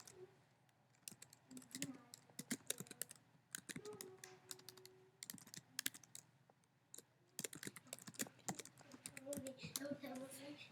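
Steady typing on a computer keyboard, quick close key clicks in uneven runs and pauses, with a person talking faintly in the background.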